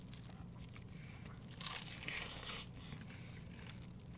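Crunchy bites into BHC fried chicken topped with potato fries, a brief burst of crisp crackling in the middle against quiet close-up room noise.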